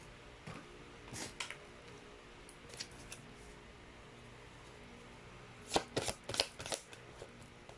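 Cards from a deck shuffled and pulled out, soft close riffling and flicks in scattered bursts, strongest near the end, against a quiet room hum.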